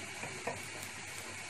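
Egg and tomato curry sizzles in a pan while a utensil stirs and scrapes through it, a steady close frying hiss with a few brief scraping accents over a short stretch.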